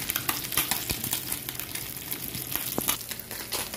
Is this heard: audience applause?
no